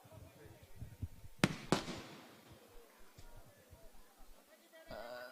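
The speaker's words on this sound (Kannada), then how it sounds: "ಸಿಡಿಮದ್ದು ಸುಡುಮದ್ದು." At a Kambala buffalo race, two sharp firecracker bangs burst close together, followed by a later crackling fizz, all over a noisy outdoor crowd with people talking.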